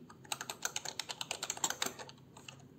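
Quick bursts of keystrokes on a computer keyboard type a short name into a dashboard, crisp close clicks in an uneven run before trailing off.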